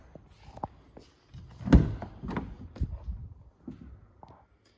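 A 2020 Volkswagen T6.1 Caravelle van's power-closing sliding door is drawn shut by a motor, with a short whir and then a firm thunk as it latches, followed by faint clicks.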